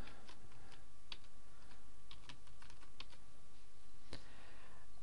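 Rapid, irregular clicking of a computer keyboard as a password and admin email are typed into a cPanel helpdesk setup form, close and steady with no talking.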